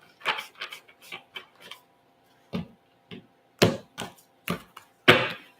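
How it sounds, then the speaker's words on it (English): Several short crisp bursts of riffling and tapping as a deck of tarot cards is shuffled, spaced unevenly, close and fairly quiet with silent gaps between them. "One more shuffle, I meant."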